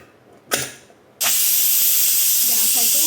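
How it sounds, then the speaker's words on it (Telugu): A pressure cooker on a gas stove, cooking field bean kurma, gives a short puff of steam, then its whistle bursts into a loud, steady, sustained hiss of escaping steam that runs on to the end. "3 విజిల్స్ వచ్చే వరకు దీన్ని మనం ఉడకనివ్వాలి."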